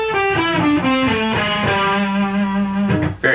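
Distorted electric guitar plays a quick pentatonic run with economy picking, descending chromatically through root, major seventh and flat seventh; bright, sustained overdriven notes ring out alone and up close.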